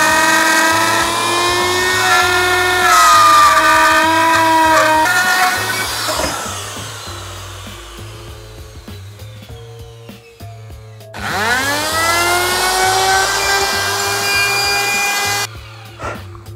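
A bearing-guided router cutter trims a van ceiling panel along a line, making a loud, steady, high-pitched whine. The whine winds down partway through, then the router spins up for a second close, sustained pass.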